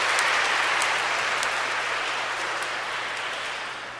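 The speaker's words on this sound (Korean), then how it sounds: "인사 축하의 박수 부탁드립니다" Congratulatory applause from a church congregation greets the newly baptized at a Catholic baptism ceremony, a brief wash of clapping that starts full and gradually fades.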